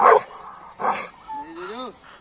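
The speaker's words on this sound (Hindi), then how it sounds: "जोजो मिलने की वजह से जो भौंक रहा भाई" A Rottweiler or pitbull gives short, loud barks, with a higher whine or yelp between them. Happens close by.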